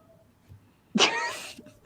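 A house cat gives a short sharp vocal burst, close and loud, about half a second long, followed by a faint thump.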